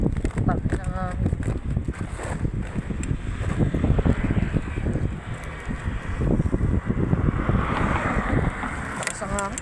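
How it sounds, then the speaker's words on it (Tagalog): Strong wind buffets the microphone with a low, gusty roar throughout, while a person talks over it. "Uy, malakas ang hangin."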